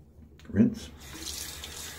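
Razor rinsed under a running tap: a brief splash as the blade meets the stream, then a soft, steady trickle of water close by, with no talk.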